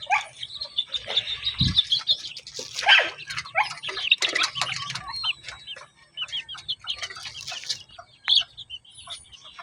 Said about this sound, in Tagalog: Oh, chickens.